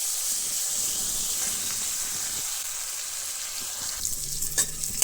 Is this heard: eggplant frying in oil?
yes